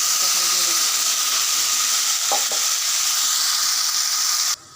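Blended onion, garlic, cumin and coriander paste with turmeric, chili and salt frying in a pan for a rohu fish curry, a steady loud bright sizzle throughout, with a couple of brief scraping stirs before it abruptly cuts off.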